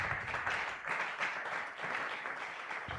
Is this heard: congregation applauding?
yes